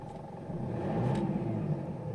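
A Mitsubishi Strada pickup engine is revved once, rising to a low throaty surge and easing back, close by and without talk, during work on an oil pressure warning light fault.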